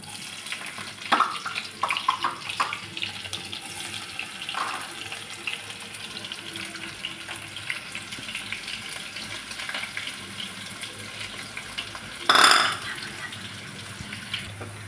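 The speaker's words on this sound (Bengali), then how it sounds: "নিয়ে এবার আমি পেঁয়াজগুলো দিয়ে দেব ভাজার জন্য" Onions fry in hot oil with whole garam masala for a mutton keema ghugni, a steady moderate sizzle with stirring clatter early on and a brief burst of running water near the end.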